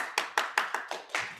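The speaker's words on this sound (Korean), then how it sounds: "우리 박수로 환영해 모시겠습니다." A few sharp handclaps, about seven in an even rhythm, welcome a pastor at a church winter retreat, close and distinct with no crowd swell.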